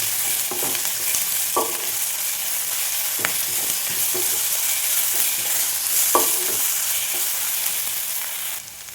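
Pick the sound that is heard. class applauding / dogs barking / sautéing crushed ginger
sautéing crushed ginger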